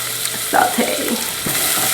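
Half an onion sautéing in a pan for chicken flautas, a close, even sizzle with a brief scrape and stir partway through.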